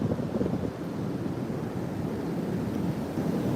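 Ocean waves break into whitewash off the coast at Currumbin on the Gold Coast, a steady low rumbling wash, moderately faint and continuous, with wind noise on the microphone.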